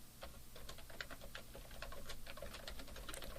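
Quiet, rapid keystrokes tap away on a computer keyboard, a steady run of light clicks with slight variation in rhythm, heard alone without talking.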